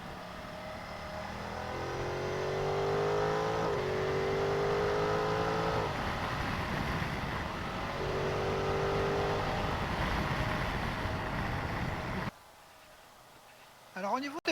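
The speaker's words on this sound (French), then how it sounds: "tu t'aperçois que le moteur il gronde un peu" Ducati Multistrada V2S motorcycle engine accelerating through gears, with repeated rising whines between shifts and a rough growl plus wind roar, recorded on the bike, with a voice talking over it before the sound cuts away.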